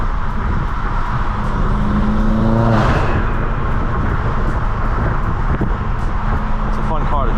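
A BMW on a city-to-city road rally drives with its engine rumbling steadily and briefly revving up around the midpoint, mixed with road and traffic noise throughout.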